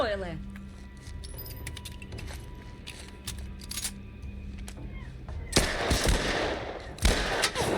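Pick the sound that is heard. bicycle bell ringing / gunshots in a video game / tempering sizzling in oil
gunshots in a video game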